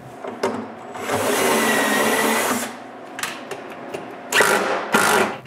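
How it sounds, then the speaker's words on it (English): A drill boring shelf pin holes in a wooden cabinet whirs in short bursts: one long run of about two seconds, then several brief spins and clicks, loud and close, with no talking. "The next morning, I can drill for the shelf pins."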